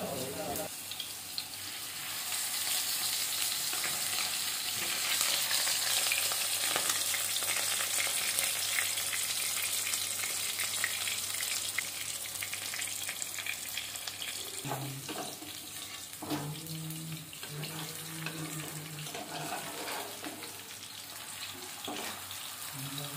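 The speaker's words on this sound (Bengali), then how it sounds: "এবারে আমি এই দুটো পাতুরিকে আগে ভেজে নিচ্ছি" Lentil paturi wrapped in pumpkin leaves frying in hot oil over a low gas flame, a continuous bright sizzle and crackle throughout, with a few low clunks of cookware handling partway through.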